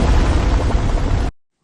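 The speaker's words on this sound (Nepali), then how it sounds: "भीषण विस्फोट हुन्छ।" Huge explosion from a trident strike in a dark mythological battle: a dense, roaring broadband blast that holds at full force for about a second before cutting off abruptly into silence.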